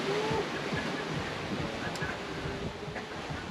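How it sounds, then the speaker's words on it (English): Ocean waves of up to ten feet rush around a sailboat crossing the Pacific toward the Marquesas, a dense, continuous wash of surf mixed with strong wind buffeting the microphone. "Wow, look at this wave."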